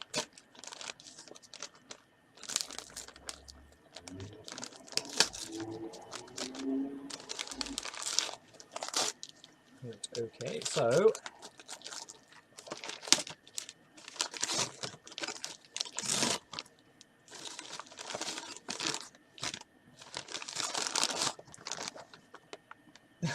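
Paper wrapping on a Secret Santa gift is crinkled and torn off in repeated short rustling bursts, close and fairly quiet, with brief talk in between.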